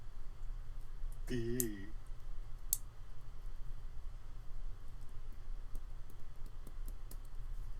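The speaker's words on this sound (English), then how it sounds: "Humans call that typing." A computer keyboard gives a few faint, sparse clicks over a quiet room hum, with a brief voice-like warble partway through.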